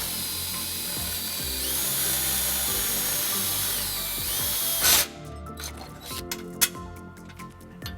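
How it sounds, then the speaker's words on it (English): A power drill with a 3/16 bit whines steadily at close range while boring a hole under the bumper of a 2007 Nissan Xterra, then winds down into clicks and clanks. "We're just going to drill the first hole using a 3/16 drill bit."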